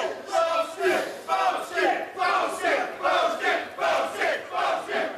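A crowd cheers and shouts in loud, rhythmic bursts about twice a second, like a chant answering a call to make noise. It is steady and energetic throughout.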